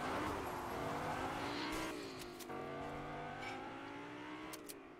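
A car in the video game Fortnite drives along with a steady engine drone whose pitch climbs and shifts through gear changes, continuous and fairly quiet, with a few brief sharp clicks over it and no talking.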